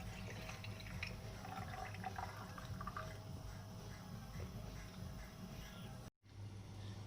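Water poured over couscous in a bowl, a steady close liquid rush and trickle running continuously before breaking off briefly near the end, no talk.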